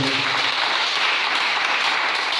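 Church congregation applauding and cheering together in praise, a dense, steady wash of clapping that fills the whole stretch without pause, with no clear voices standing out.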